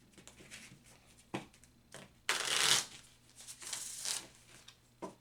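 Close-up card shuffling: a few soft taps, then a loud rapid riffle and a second longer flurry of flicking cards, no voices.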